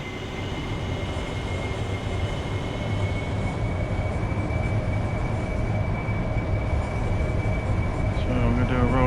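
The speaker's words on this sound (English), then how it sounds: "So I'm going to do a rolling takeoff for those that aren't initiated on this." A simulated AV-8B Harrier jet engine in the DCS flight game roars steadily and loudly through a rolling takeoff on the runway, a continuous broadband rumble with a sustained whine, while a voice talks over it.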